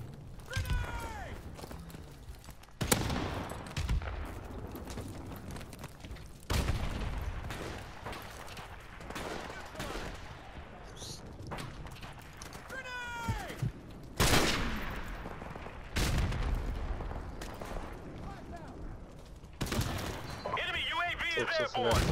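Bursts of gunfire sound repeatedly in a Call of Duty: Modern Warfare multiplayer match, scattered sharp shots and volleys mixed with game effects, while players talk throughout.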